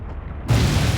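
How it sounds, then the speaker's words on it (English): A sudden deep boom from a villain's large-scale explosive attack in the anime My Hero Academia, bursting in halfway through after a quiet muffled moment and rumbling on loudly to the end. "Explosions? What? Wait, could this be? A villain has completed another large-scale attack."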